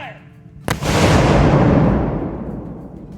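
An artillery piece fires once at a battle demonstration, a loud sudden boom that rolls into a long, fading rumble.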